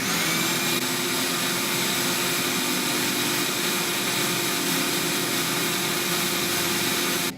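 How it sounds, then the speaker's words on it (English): A shop vac runs steadily and loudly throughout, its constant broadband whine and roar alone, during drywall sanding work for interior painting, then cutting off at the very end. "I've got my shop vac."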